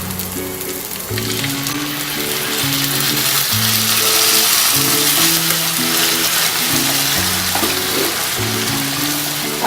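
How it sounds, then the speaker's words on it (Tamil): Tomato puree sautéing in a pan for a paneer bhurji gravy makes a continuous, bubbling sizzle over background music, holding steady for several seconds. "தக்காளி நல்லா வதங்கணும். வாசனை போகிற வரைக்கும் வதக்கிக்கோங்க."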